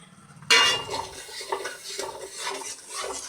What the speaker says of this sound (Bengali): তো আমি এখন এই মশলাটা ভাজবো।